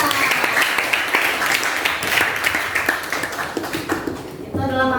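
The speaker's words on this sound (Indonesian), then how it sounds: "tepuk tangan untuk Aditya." Classroom applause for a student presenter, a dense patter of clapping from many hands with a voice talking over it near the end.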